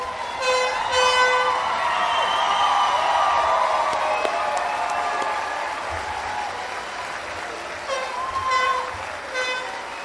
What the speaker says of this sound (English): Would the parents of the graduates please stand for a very well-deserved round of applause?